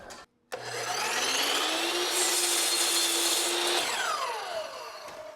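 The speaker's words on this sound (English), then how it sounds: "I think we can just cut this on our chop saw here." A chop saw motor spins up with a click, then grinds steadily through a piece being cut to 8 inches in a workshop, the whine winding down afterward; loud and close, no talking.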